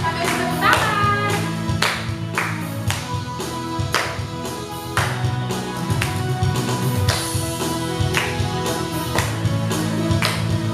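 A church congregation claps along in steady rhythm to a hymn played with instruments, sharp regular hand claps sounding over the music throughout.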